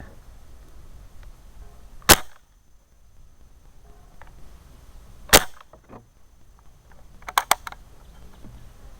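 Crosman Pumpmaster 760 pump air rifle fired during a velocity test: three sharp, loud shots spaced several seconds apart, each a crisp crack, the last followed by a couple of quick smaller clicks, with quiet handling noise between.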